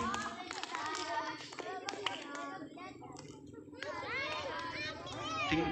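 Schoolchildren at a Ramadan games event clap together in a burst of applause, with excited children's voices and chatter mixed in.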